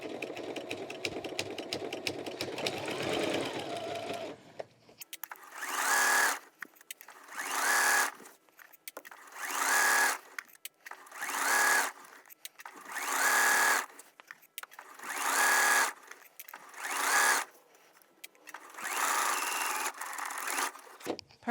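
A sewing machine stitches a seam on a pillow case in about eight distinct bursts of whirring, each a second or two long with short pauses between, after a few seconds of softer handling sounds.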